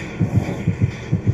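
A video game heartbeat effect pulses in low, thudding double beats, three pairs in quick, steady rhythm, loud and alone.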